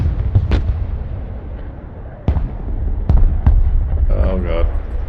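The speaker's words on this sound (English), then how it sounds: "The fuck's this artillery?" Artillery shells land in the Broken Arrow video game, several sharp booming impacts spaced irregularly over a low rumbling battlefield bed, fairly loud, with a faint whistling tone near the end.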